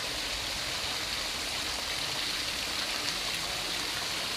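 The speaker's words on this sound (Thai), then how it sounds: "น้ำซับไหลตลอดทั้งปีครับ" Natural spring water flows from a spring well in Sangkha district, Surin, Thailand, making a steady, close, unbroken rush and gurgle with no pauses.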